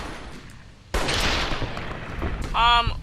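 Gunfire from the video game Fallout: New Vegas: a sudden loud burst of shots cuts in and carries on as a dense rattling spray, with a sharp tonal cry near the end.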